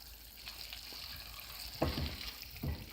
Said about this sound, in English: I'm just constantly stirring so it doesn't burn or anything.